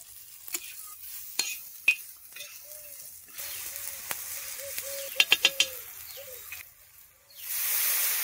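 Water hits hot masala of oil, chopped chilies, tomato and garam masala in a village cooking pan, bringing intermittent sizzling, spoon scrapes and a few sharp clicks, then a loud steady hiss surging at the end.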